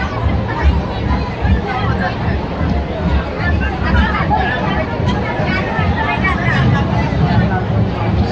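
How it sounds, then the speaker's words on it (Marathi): A dense crowd of pilgrims packs the Ekvira temple, a close, continuous babble of many overlapping voices with shuffling movement underneath. "खूप गर्दी आहे गाईस."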